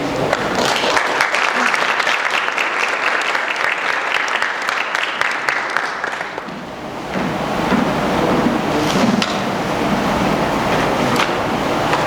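Audience at a high school National Honor Society induction ceremony breaks into sustained, loud applause that swells and continues, with a brief dip midway before clapping resumes at full strength.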